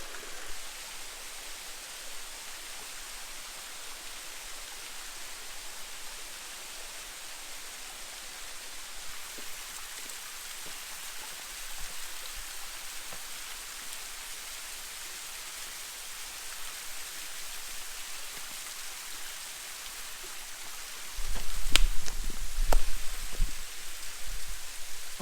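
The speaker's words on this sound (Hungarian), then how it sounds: "ahogy látjátok, megjöttünk a vizeséshez" A waterfall in Laos during the dry season pours with a constant rushing hiss that stays fairly even. Near the end, a few louder, closer knocks and thumps break over the flow.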